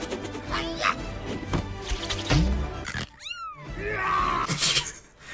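A catlike roar and snarl from a Kung Fu Panda fight scene, a loud animal cry sweeping down in pitch amid crashing fight effects and soundtrack, with a person's voice reacting nearby.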